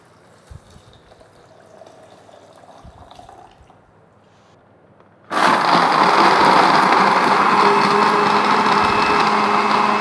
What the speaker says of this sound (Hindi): और अभी हम इसके अंदर डाल देंगे 2 गिलास पानी।